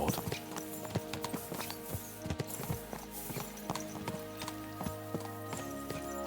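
Horses' hooves clip-clop in a steady galloping rhythm in the medieval world of Kingdom Come: Deliverance 2, close and clear over a humming tonal ambient music bed.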